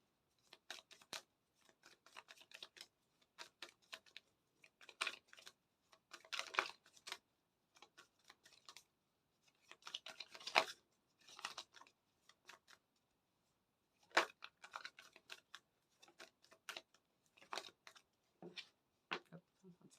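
Tarot cards are shuffled and drawn in quick, crisp bursts of papery flicks and taps, close and fairly quiet, broken by short pauses and interspersed with a soft speaking voice.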